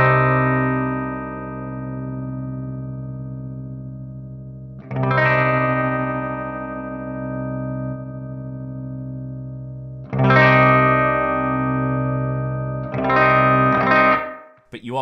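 An electric guitar through a Source Audio Ventris reverb pedal rings out sustained chords, struck anew every few seconds, with a pulsing, wavering tremolo modulation on the held notes.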